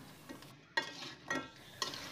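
Battered fried chicken pieces are stirred into a sweet sauce in a pan with the heat turned off, making three close, wet scraping strokes spaced about half a second apart. The sound is fairly quiet, with no talking.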